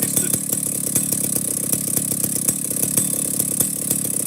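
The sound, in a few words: Stihl 050 chainsaw with old school muffler idling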